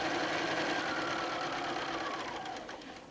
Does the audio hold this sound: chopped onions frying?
no